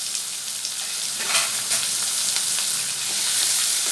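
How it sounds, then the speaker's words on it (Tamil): Onions and curry leaves sauté in hot oil after mustard seeds have popped, for a Tamil buttermilk curry, a steady loud sizzle with faint stirring scrapes and no talk. "கருவேப்பிலை, கட் பண்ணி வச்சுருக்கிற வெங்காயம் போட்டு நல்லா வதக்கிக்கலாம்"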